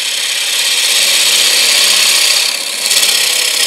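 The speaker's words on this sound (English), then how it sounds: "all I want to do is cut down straight on that line. Begin to form that tenon" Steady broadband hiss of a lathe gouge cutting a tenon into a spinning green wood bowl blank, continuous and close with a slight dip near the end, no talk.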